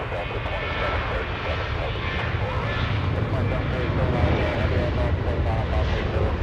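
A Delta airliner departing Los Angeles International Airport roars with a loud continuous jet-engine rush, building slightly, while voices talk over it.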